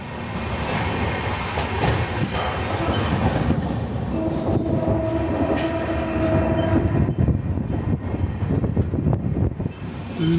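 A Mumbai–Hyderabad SF Express train runs steadily, passing Akkalkot Road station on the loop line with a constant loud rumble, wheel clatter and rail noise filling the whole stretch, plus a brief tonal squeal in the middle.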